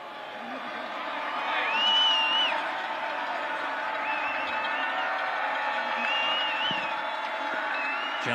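Home fans at a high school football game between Mill Valley and Maize give a sustained, distant crowd cheer with whoops, swelling then holding steady under announcer commentary.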